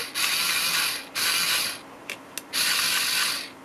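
A small motor and plastic gears whir and ratchet inside a radio-controlled toy spider powered from a bench supply, running in three close bursts with short clicks between them.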